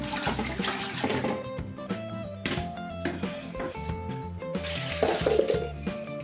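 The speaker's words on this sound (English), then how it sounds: "Rinse in cold water to remove any starch." Cold tap water runs and splashes into a sink while potatoes are swished and tumbled about in it, steady and close, with no talking.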